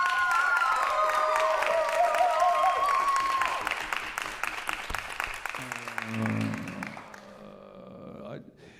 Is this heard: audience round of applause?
yes